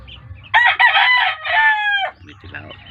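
A rooster crows once, loud and close, in a chicken coop, with a drawn-out call that fades out, then soft clucking and farmyard murmur follow.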